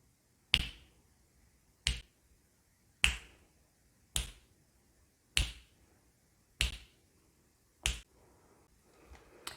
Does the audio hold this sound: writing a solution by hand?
no